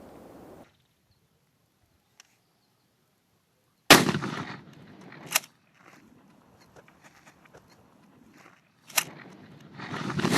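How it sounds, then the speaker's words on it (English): A 12 gauge multiple impact round fired into ballistic gelatin from about 10 feet, one sharp loud outdoor report after a quiet stretch, followed by a few softer thumps and another sharp crack near the end. "We're gonna take 2 shots at the gel now, one from about 10 feet"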